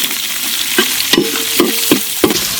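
Big onions fry in hot oil in a village-style duck curry pan, stirred with five sharp scraping strokes at a steady rhythm over a continuous close sizzle, no voices.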